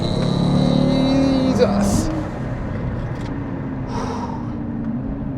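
A Stage 1 tuned Audi RS3 accelerates hard on a twisty backcountry road, its engine roaring loudly before easing into a lower drone, with someone talking over it.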